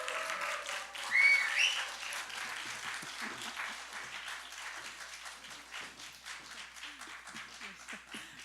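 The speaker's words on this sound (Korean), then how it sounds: "큰 박수로 모시겠습니다." A forum audience at the Korean National Assembly applauds to welcome a professor to the podium, a steady, even clatter of many hands from a moderately distant room, fairly quiet and unbroken throughout.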